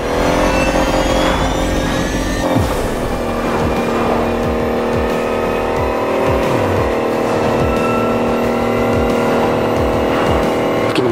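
An electric car in The Crew Motorfest races down a speedway, its motor whining steadily upward in pitch with game engine and road noise throughout, loud and continuous without speech.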